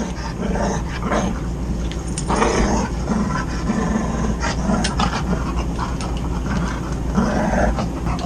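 A dog growls loudly and continuously up close inside an RV, a low rumbling snarl that rises and falls over steady background noise.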